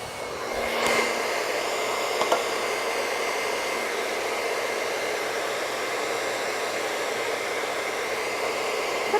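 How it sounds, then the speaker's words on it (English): A hair dryer blows hair dry with a continuous loud whooshing roar, close and steady, with faint brief handling knocks near the start. "it really completes a blow dry"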